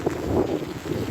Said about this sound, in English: Oh, what wind's picking up now.